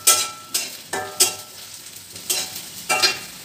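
Garlic and green chilies frying with lightly browned onion in hot oil, heard as a steady sizzle broken by several sharp scraping stir strokes at a loose rhythm, close and fairly loud.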